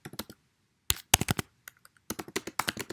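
Typing on a computer keyboard, bursts of quick close key clicks separated by short pauses, with no talking.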